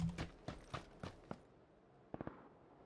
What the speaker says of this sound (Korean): 뒤에서 발소리가 들렸거든요?